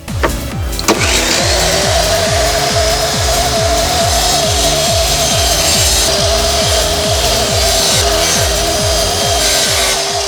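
A power saw cuts the bottom piece out of a handmade harmonica body. It runs as one loud, continuous buzz with a rapid chopping rhythm through the cut, close and alone.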